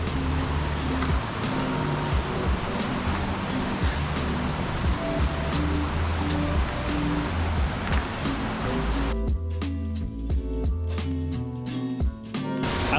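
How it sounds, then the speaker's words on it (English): A jungle waterfall on the Road to Hana in Maui pours in a steady, loud broadband rush that holds for the whole stretch, with a brief shift in texture near the end. "it's a really nice waterfall"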